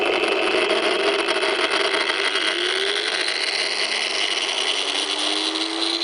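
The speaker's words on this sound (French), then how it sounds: "J'allume la disqueuse." A 700-watt angle grinder runs steadily at full speed, a loud continuous high-pitched whine and hiss that holds for the whole stretch, with a rising tone as the motor spins up, powered off an off-grid solar setup.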